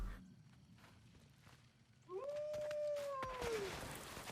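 A wolf in the God of War Ragnarök video game lets out one long, faint, slightly falling howl, with soft footstep-like taps around it and no talking.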